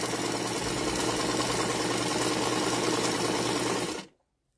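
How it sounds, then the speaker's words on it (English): A sewing machine stitches fabric for a quilt block in a steady, continuous whirring hum, close and fairly loud, that cuts off abruptly after about four seconds, with no talking. "I'm going to continue sewing."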